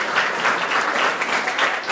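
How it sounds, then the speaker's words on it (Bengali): An audience at a felicitation ceremony claps loudly and steadily in a brief burst of applause, with no voices over it. "সবাই হাততালি দিয়ে"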